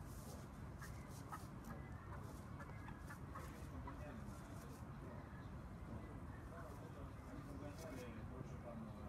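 Several Cochin chickens cluck and murmur in the background at an exhibition, with a voice talking over them throughout.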